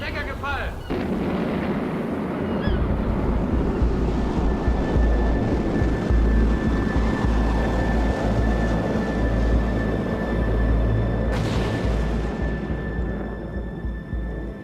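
A V2 prototype rocket launches with a loud, sustained roar that rumbles continuously for the whole span, with a brief crackling burst at the start and steady whine tones running over the thunder.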